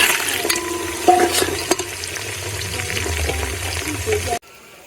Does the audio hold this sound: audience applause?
no